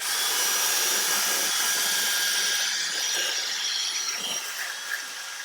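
A drill-driven brush attachment scrubs a car wheel, a continuous loud whirring hiss with gritty scraping texture that holds steady throughout, close up and without talk.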